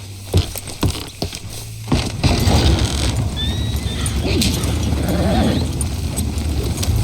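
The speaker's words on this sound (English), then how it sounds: "Arthur, you ride with the deputy." Horses from a western video game: a sharp neigh, then a steady, rhythmic clip-clop of hooves as the riders set off, fairly close and loud over a faint outdoor background.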